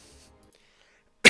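A single sharp cough bursts close into an unmuted live-stream microphone after a near-silent stretch, loud and abrupt.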